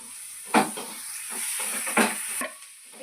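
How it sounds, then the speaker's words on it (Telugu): Fish pieces fry in a pan for a fish curry, giving a steady, fairly soft sizzle broken by two clattering stirs of a spoon against the pan. "ఇక చేపలు వేగుతున్నాయండి"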